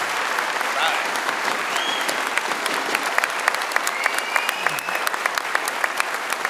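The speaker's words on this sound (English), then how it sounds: "Big round of applause, please." A convention audience applauds the guest panelists at the PC Gaming World Congress panel at PAX Prime 2013. Sustained, dense clapping is fairly loud and continuous, with scattered whoops.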